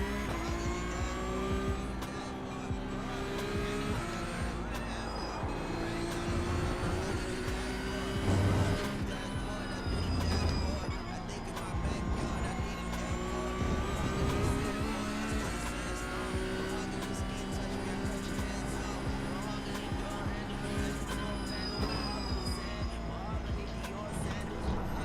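A Porsche Cup race car circles Road Atlanta slowly at the start of a run to heat its tires, with a steady, loud engine drone and shifting pitch throughout, plus occasional tire noise and a voice talking over it.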